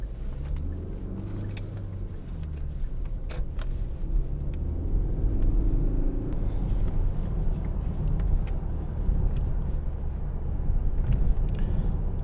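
Steady low engine and road rumble inside a Hyundai i40 1.7 CRDi diesel car while driving, a continuous drone with faint rattles and no voices.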